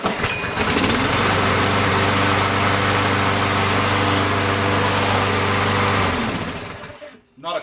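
A Briggs & Stratton lawn mower engine, hot and already warmed up, runs steadily at a close, loud, constant drone with a harmonic hum, then cuts off near the end and trails into near silence.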